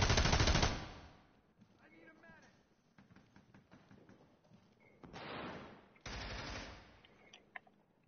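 Bursts of gunfire from a video game match, a loud volley at the start and more heavy bursts later, with a voice talking between them.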